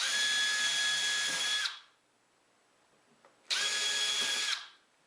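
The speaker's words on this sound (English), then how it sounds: "I'm pre-drilling holes from this side in the middle of the dado" Power drill pre-drilling holes into pine inside a dado for a lamp table, heard as two steady, loud whining runs of about one and a half seconds and one second, separated by a quiet pause, close and with no talk.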